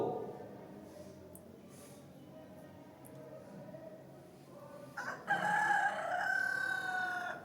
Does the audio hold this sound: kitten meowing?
no